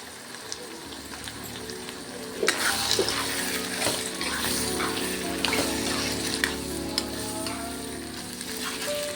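Raw, freshly washed prawns hit a hot pan for an egg and tomato curry, setting off a loud, steady sizzle that jumps up suddenly and then keeps crackling close by with a faint watery hiss underneath.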